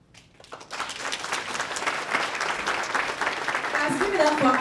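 A room full of attendees at a new teacher orientation breaks into sustained applause that swells steadily and stays loud, with a voice talking over the clapping.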